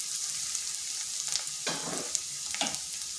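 Softened onion and green chillies fry in a pan with a soft, continuous sizzle. A few brief scrapes of stirring stand out over it at moderate distance.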